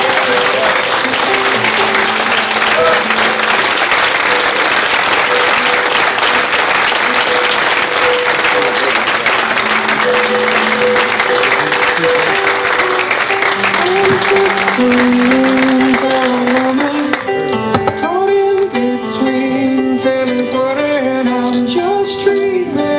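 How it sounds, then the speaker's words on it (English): Audience applause, a dense continuous roar of clapping that holds loud and steady for most of the span, then thins into scattered claps near the end. "So please show your appreciation and give a nice warm round of applause for Alan Platt."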